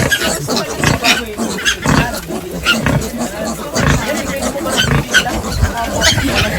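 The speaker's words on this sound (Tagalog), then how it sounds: "Kukunin ko muna po yung mga biik" Pigs and piglets on a farm grunt, squeal and rustle in a close, busy jumble of repeated bursts, with a person talking over the animals throughout.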